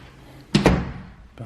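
Closet door in a townhome swinging open with a sudden thump and rattle, followed by a short, fainter knock near the end, close by in a quiet room.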